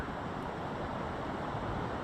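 A huge waterfall in Wales, the largest in the country, on a winter morning, gives a steady, dense roaring rush of falling water that stays unchanged at close range throughout.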